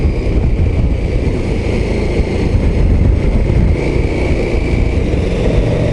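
A KTM 1290 Super Adventure S motorcycle engine runs steadily while riding, a loud continuous drone mixed with heavy wind rush and no clear revving peaks.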